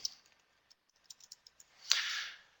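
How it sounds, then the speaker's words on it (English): A handful of sparse, quiet keystrokes on a computer keyboard, spaced irregularly, followed by a louder, longer rustling burst near the end. "just hit Enter or Return on the keyboard, and then you can keep typing"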